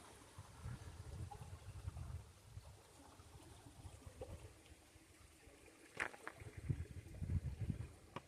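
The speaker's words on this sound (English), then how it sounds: "Hear that water flowing underneath us." A stream flowing beneath a concrete bridge at a nature center, a soft low trickle and burble heard faintly close by, with a few brief knocks and louder splashy gurgles near the end.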